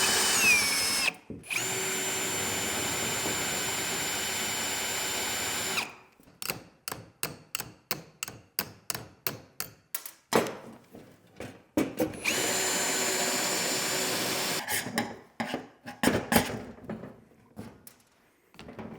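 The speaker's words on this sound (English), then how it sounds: "Drill those rivets out" A power drill bores out aluminum rivets on a utility trailer's cage: long steady whirring runs broken by a burst of short, rhythmic trigger pulses, close and loud.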